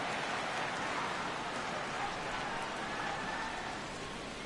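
Steady rain pouring over a ballpark during a Padres at Giants baseball game, a constant broad hiss with no breaks, moderately loud throughout.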